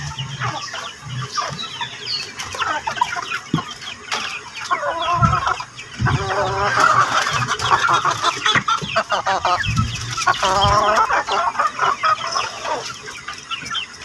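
A lone Chinese chicken rooster clucks repeatedly at close range in a farmyard, with short, busy bursts of clucking over faint outdoor background.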